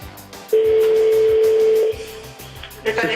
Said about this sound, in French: Ça sonne.